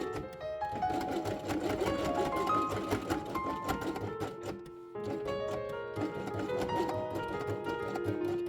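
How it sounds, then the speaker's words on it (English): A sewing machine stitches felt pockets for a quiet book page in a fast, continuous run that breaks briefly near the middle before resuming, close and without talk. "At the beginning and end of sewing, sew forward and back and repeat 3 times."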